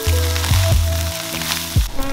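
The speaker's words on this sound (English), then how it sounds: "I'm just gonna let it sit with the wok and mix it up a little bit. I want that char." Egg fried rice sizzles and hisses loudly in a hot wok, close up. A few thumps and scrapes break into the steady crackle as the rice is stirred, and no one speaks.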